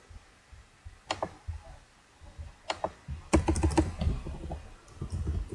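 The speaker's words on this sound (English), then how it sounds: "let's just type it down here," Keys clack on a computer keyboard in short, quiet clusters: a few isolated taps, then a quicker run of typing, picked up close in a quiet room.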